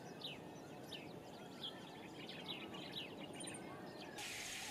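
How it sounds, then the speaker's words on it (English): Grey-backed camaroptera calling from scrubby bushland in the Gambia, a series of faint, repeated high chirps and short notes spaced over a steady, noisy background hiss. "Grey-backed Camaroptera."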